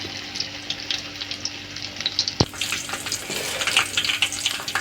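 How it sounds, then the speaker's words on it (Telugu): Mirchi bajji, green chilli fritters made with raw banana, deep frying in hot oil, giving a steady close bubbling sizzle with one sharp knock partway through and crackling that grows busier toward the end. "ఒక 2 మినిట్స్ మంచిగా నూనెలో డీప్ ఫ్రై అయ్యాలి"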